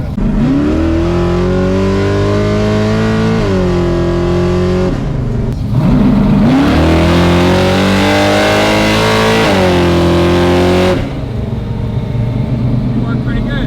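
An old Ford Mustang revs hard and accelerates, its engine note climbing in long pulls that drop back between gear changes, loud and close with speech mixed in.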